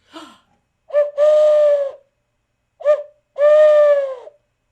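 A voice imitates an owl, giving two pairs of hoots, each a short note followed by a longer, drawn-out one, with silence between pairs.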